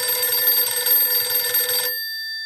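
Telephone ringing as a call is placed, a bright electronic trill that sounds continuously for about two seconds and then cuts off, leaving a faint tone, close and clear with no talk.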